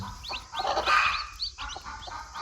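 Naked neck chicks, a mixed crossbred hatch, peep in quick high chirps, several close calls in a row with soft farmyard noise behind.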